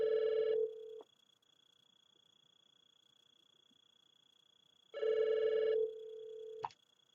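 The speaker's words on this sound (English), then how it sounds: "It's basically just the one stock ringtone." A desk phone's single stock ringtone sounds in two bursts of tonal electronic trilling about five seconds apart, each followed by a brief lower tone and a click, with near silence in between.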